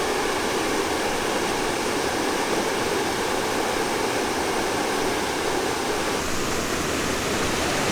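A large spring's outflow pours steadily into a river, a loud, continuous broadband rush of falling water close by with no pauses.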